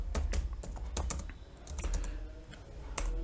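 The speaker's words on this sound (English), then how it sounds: "and simply we will type" Rapid, uneven keystrokes on a computer keyboard, clattering close and clear for a few seconds, with bursts of clicks clustered together and short gaps between them, entering code in Google Earth Engine.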